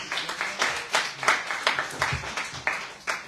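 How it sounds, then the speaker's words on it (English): Light applause for a sprinter at a track-meet news round-up, scattered claps from a small audience rising and falling in uneven bursts, moderately loud without talk. "So give him a round of applause."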